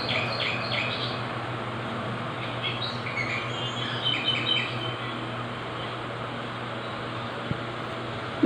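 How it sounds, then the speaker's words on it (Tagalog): Small birds chirp and tweet faintly in short scattered bursts, heard at a distance over a steady low hum, with no voices. "Yung mga ibon niya."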